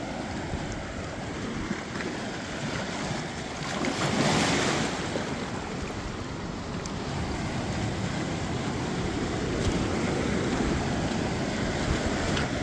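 Ocean waves break and wash along the shore below a cliff on the Southern California coast, a steady loud roar of surf with a swell around four seconds, mixed with wind buffeting the microphone.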